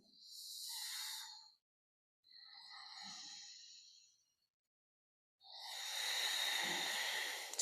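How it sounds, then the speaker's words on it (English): Deep breathing during yoga practice: three slow, close, airy breaths, each a few seconds long and separated by short silences, with no talking. "deep breaths."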